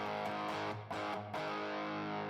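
Electric guitar played through an amp on its red channel with the EQ pushed a little and reverb on, a distorted, sustained tone with two brief chord changes and a reverb-tinged wash, no voice.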